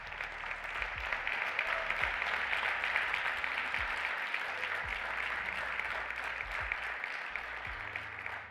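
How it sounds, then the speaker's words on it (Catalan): Steady applause from a crowd at an awards ceremony fills the whole stretch, dense and even, with a few low thumps underneath. "Deixem espai també pels aplaudiments"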